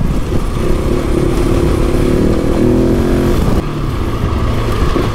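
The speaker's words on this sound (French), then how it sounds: "au niveau du moteur, on est sur un mono, mais qui a quand même du répondant" A Husqvarna 701 single-cylinder rally motorcycle engine pulls hard and accelerates, its thumping drone rising in pitch, then easing off briefly before carrying on, heard up close.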